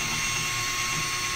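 An electric drill with a 1.5 inch paint mixer insert stirs Magnaflux UT-X ultrasonic couplant powder into water, giving a steady, high-pitched whirring whine, close and constant throughout the brief stretch.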